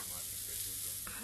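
Martell cognac sizzles in a very hot pan, a steady faint hiss that holds for about a second before a brief sharper flare at the end.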